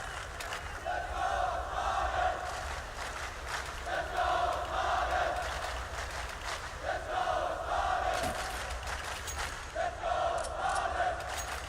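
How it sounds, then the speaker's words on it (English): A CS:GO major crowd at PGL Krakow 2017 cheers for Astralis in rhythmic chants that swell and fade in repeated waves, heard at a distance and fairly soft. "Great support here from the crowd for Astralis to make this comeback a reality"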